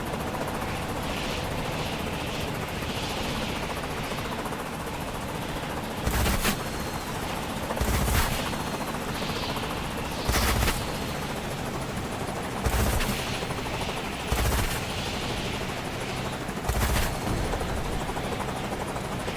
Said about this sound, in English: You can see quite a bit of fire coming up to meet Pupboy.